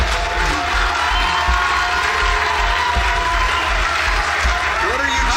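An audience cheering and clapping in a steady, loud crowd roar, with a low rumbling hum underneath.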